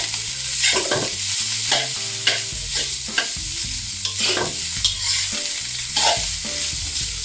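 Shrimp fried rice with Chinese kale is stir-fried in a hot pan, a steady sizzle broken by repeated scraping and chopping strokes of a spatula against the metal, close and busy.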